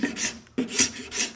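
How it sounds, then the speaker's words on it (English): Short rasping strokes of a scraper drag over filler on a wooden TotalBoat work skiff, about three or four close, rhythmic scrapes with brief pauses between, heard alone. "So we're just scraping our way along up forward here"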